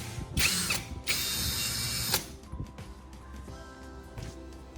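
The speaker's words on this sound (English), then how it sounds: "Insert the prepared screw into the drill chuck and tighten it securely" A few sharp ratcheting bursts of a drill chuck being tightened on a screw, followed by quieter clicks and mechanical rattling, close up with no talking.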